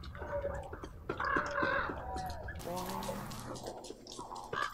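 A bird in the survival game Don't Starve Together squawks and clucks in short crow-like bursts amid game effects, with players talking over it.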